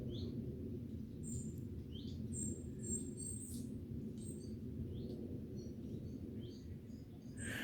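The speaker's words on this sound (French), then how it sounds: "que tu peux entendre un peu les petits oiseaux." Small birds chirping outdoors in nature, faint scattered high tweets and short calls over a steady low rumbling background, distant and soft.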